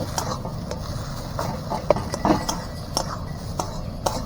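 Black cumin (kalonji) frying with garlic and onion in a pan, a spatula scraping and tapping against the metal at irregular intervals over a low, steady background.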